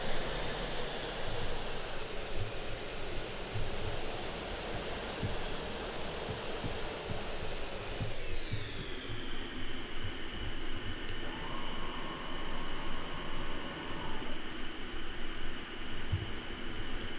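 A Su-15T jet with late wings flies in the combat flight sim Il-2 '46, its engine roar and whine holding steady, then dropping slightly in pitch midway and continuing alone.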